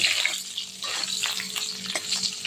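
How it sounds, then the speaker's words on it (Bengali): Continuous close sizzle and crackle of large-cut, salted potato pieces frying in hot oil, with light scraping now and then. "দেখুন বন্ধুরা, আমার আলু ভাজা হয়ে গেছে।"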